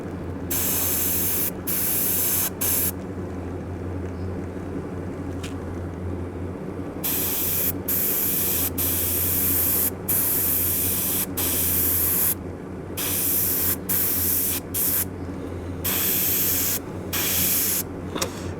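Paint sprays onto a handmade garfish swimbait lure in repeated steady hissing bursts separated by short pauses, close and loud with no talking.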